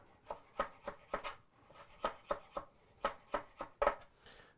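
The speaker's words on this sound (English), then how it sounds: "and I'm going to chop those up." A knife chops five anchovies on a board in a run of sharp, evenly paced strikes, with a few brief pauses between bursts of cuts, close and clear with no talking.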